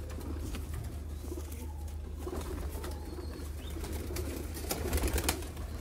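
Pet pigeons cooing in a loft of young breeding birds, soft repeated low coos blending into a steady background with occasional wing flutters and other bird sounds.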